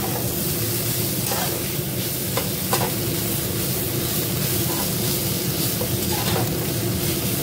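Leafy greens stir-fried in a pan along with fried eggplant: a loud, continuous sizzle and crackle of frying, with soft stirring scrapes running through it.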